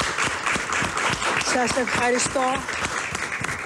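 Applause from a live studio audience for a Greek actor, steady clapping all the way through, with a voice speaking over it partway.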